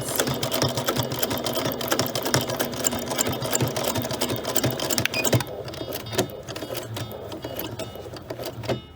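A sewing machine runs in a fast, steady mechanical whir while stitching tote bag pocket pieces, close up, then slows into scattered individual stitches and clicks near the end.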